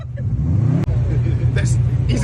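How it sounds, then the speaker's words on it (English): A 600hp big-turbo Subaru STI idles with a deep, loud rumble, then gives a couple of short fluttering turbo chirps near the end. "It's got the turbo flop."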